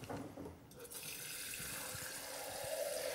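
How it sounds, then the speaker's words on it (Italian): A litre of water pours steadily into a jug for brine, a close, continuous rushing splash that fills the whole short stretch. "Prendiamo un litro di acqua, quindi la mettiamo nella nostra brocca"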